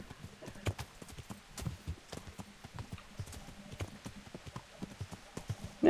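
Horse hooves clip-clop in a steady, uneven rhythm of sharp knocks on hard ground while riding in the medieval game Kingdom Come Deliverance, with a faint snort near the end.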